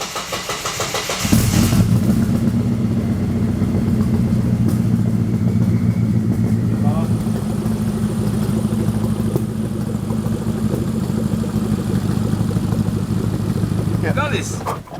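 Twin-turbo burnout truck engine cranks and fires after a second, then settles into a loud, steady, slightly uneven idle that runs throughout.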